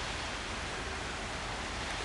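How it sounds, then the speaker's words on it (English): Rain getting heavier on a motorcycle trip in Michigan, a dense, steady wash of hiss with no breaks, moderately loud and alone. "The rain's starting to get a little bit heavier."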